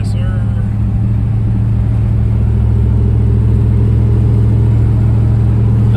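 Pontiac Firebird Trans Am with a swapped LQ4 V8 running on the road, a loud, steady low engine rumble heard from inside the car, with people talking over it.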